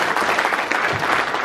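Audience applause fills a conference hall at a MEDEF business forum during the 2017 French presidential campaign, a steady, dense wash of many hands clapping at close range with no voices over it.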